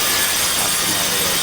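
A grinder works on a glass pane being prepared for fitting in a wall, giving a brief, loud, continuous abrasive whir with no pauses.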